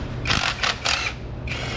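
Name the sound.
ratchet removing 10mm ground bolt on Honda Accord thermostat housing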